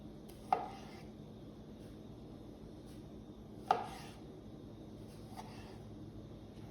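A knife cuts fresh vegetables into halves and quarters on a board for a rotisserie chicken cobb salad: two distinct chopping knocks a few seconds apart and a fainter third tap, over quiet kitchen background.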